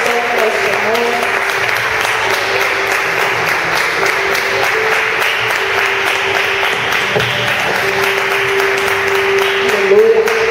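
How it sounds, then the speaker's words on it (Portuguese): Congregation applauding during a home church service, a steady dense wash of clapping throughout with voices and music beneath. "Aplauda o Senhor novamente"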